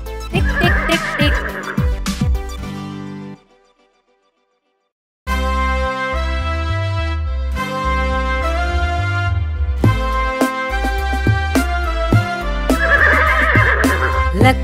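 Horse neighs open and close a Hindi children's nursery rhyme, whinnying loudly over bright backing music with a clip-clop beat, with a brief silent pause partway through.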